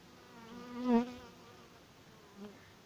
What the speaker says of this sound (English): But this is a nice swarm.